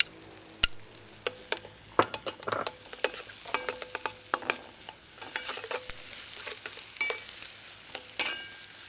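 Onions, bullet chilli and red pepper sizzling in a pan for a balti, with steady frying hiss broken by frequent sharp clinks and scrapes of stirring.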